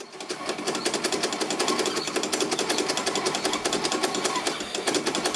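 An old Sanyo Betacord video recorder's tape mechanism runs with a steady, rapid whirring chatter, evenly pulsing and fairly loud up close, with no speech over it.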